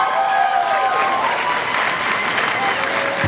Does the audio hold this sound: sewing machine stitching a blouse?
no